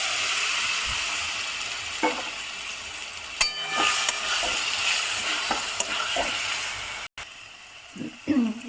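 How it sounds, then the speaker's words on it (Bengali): Marinated chicken sizzles and fries in a hot wok, steady bubbling hiss throughout with scattered clinks and scraping stirs of a utensil against the pan, no talking. "এবার আমি ম্যারিনেট করা চিকেনটা দিয়ে দেবো।"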